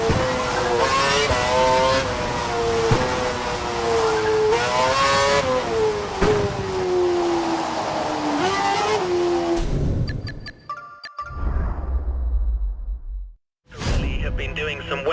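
An F1 car in the F1 2012 game lapping a soaked track, its high engine whine climbing and shifting through the gears, then falling into choppier sounds near the end.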